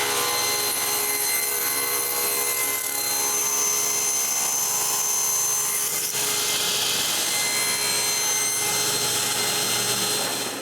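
A saw cuts steadily through a walnut board glued with a paper pattern, making a loud, continuous high whine with rough buzzing that holds throughout and barely varies, close up and with no talk.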